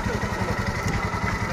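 Motorcycles of a group riding near Temse village in Leh thrum with a loud, close, pulsing engine rumble that holds steady without a break.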